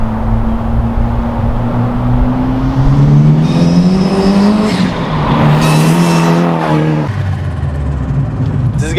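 Vauxhall Corsa B fitted with a Saab engine, wheels spinning as the engine revs hard, tire squeal rising and falling, loud and close, the engine note climbing then dropping off near the end.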